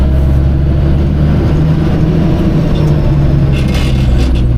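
A 1971 Mack RL700L long-hood truck engine runs loud and close, a deep, steady, heavy rumble that holds at high revs throughout with no voices.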